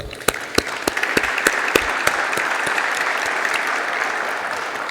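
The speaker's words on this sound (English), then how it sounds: "I kindly ask you for applause for them." Conference attendees at the Black Sea Security Conference applaud, starting with a few sharp, separate claps that quickly swell into sustained, even applause.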